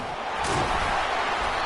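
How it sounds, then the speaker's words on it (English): A stadium crowd at an NCAA football game roars for the defense on third down, a dense, loud, sustained wash of cheering with no break. "Decibels rising as the crowd gets behind this defense on 3rd down."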